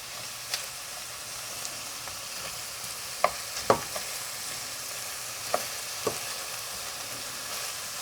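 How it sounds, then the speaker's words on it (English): Ingredients for Kashani dill rice sizzle softly in a pan, and a handful of spaced utensil clicks and scrapes stand out from the steady frying hiss, close up. "to saute this for about few minutes"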